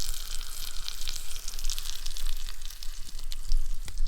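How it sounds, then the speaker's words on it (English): Steak sizzling in a pan over a campfire at a Boundary Waters lake camp, a steady close crackling hiss with fine popping spatters, continuous throughout and no talk. "Sizzling."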